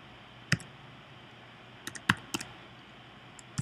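Sparse keystrokes on a computer keyboard tap out a student code, a single click, then a quick cluster of several presses and one last tap, close and quiet against faint room hiss.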